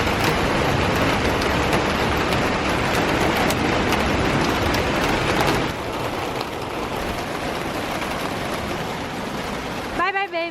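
Heavy rain pours down on an outdoor court, a loud, dense, steady hiss that eases slightly partway through and continues under a brief voice at the end.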